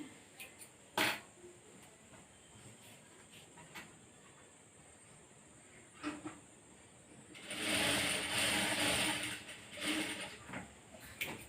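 A sewing machine stitches a blouse shoulder seam, with scattered clicks and short mechanical taps before a louder burst of rapid whirring stitching near the end.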